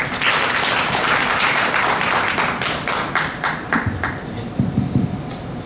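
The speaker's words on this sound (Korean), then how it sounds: "박수로 강의 듣겠습니다." Audience applause in a lecture hall at a gastroenterology medical society meeting, many hands clapping steadily for several seconds before thinning into scattered claps.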